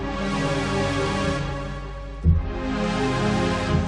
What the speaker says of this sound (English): you can even make real fat analog strings to this machine